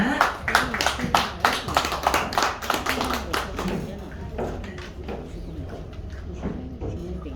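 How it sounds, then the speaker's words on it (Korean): Audience clapping at a book concert and author signing in a bookstore as the mayor arrives: scattered claps, strongest in the first few seconds, thinning into murmuring chatter and background talk. "큰 박수 부탁드리겠습니다."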